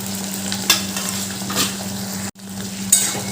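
Chili chicken pakoras being stirred into a mix of three sauces in a hot pan, a steady loud sizzle with scraping stirs and a couple of utensil clinks, briefly cut off before the frying resumes.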